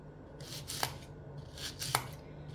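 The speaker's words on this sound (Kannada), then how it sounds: "ಸ್ವಲ್ಪ ಕ್ರಾಸಾಗಿ ಕಟ್ ಮಾಡ್ಕೊಳ್ಳಿ ಯಾವಾಗಲೂ." A knife chops okra into small pieces, two clusters of crisp, close taps on a cutting board with a faint steady hum underneath and no talk.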